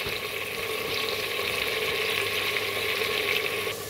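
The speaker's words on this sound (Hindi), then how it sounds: "पहले मैं सारा मटेरियल डालकर लहसुन का पेस्ट डालकर थोड़ी देर भूनूंगी इसको अच्छी तरह से" Garlic paste and whole spices (cumin, cloves, black pepper, black cardamom) frying in a pan for biryani, a steady bright sizzle with faint stirring, continuous and close throughout.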